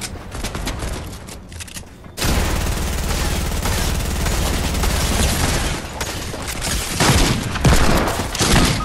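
Sustained gunfire from the Fortnite video game, a dense continuous volley of shots with booming bursts that starts after two seconds and stays loud to the end.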